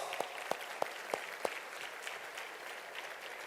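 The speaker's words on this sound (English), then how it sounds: "Y'all give a round of applause." Gala audience applauding sponsors: a soft, distant wash of many hands clapping, with a few sharp, closer claps standing out early on, then the applause evens out and fades slightly.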